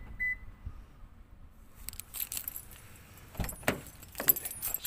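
A Toyota Prius Alpha unlocks with its key remote, giving a short beep followed by the clunk of door locks and some jangling keys nearby.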